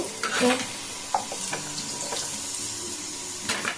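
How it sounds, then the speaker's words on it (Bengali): Potatoes sizzle while frying in a wok-style pan (kadai), with a few scraping stirs of a utensil against the metal over a steady crackling hiss, heard close up and with no voices. "আলুগুলো খুব সুন্দর দেখুন ভাজা হয়ে গেছে"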